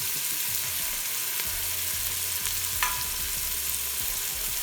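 Garlic and jalapeno fry in a pot with a steady, dense sizzle close by, broken by a few faint stirring clicks, with no talking.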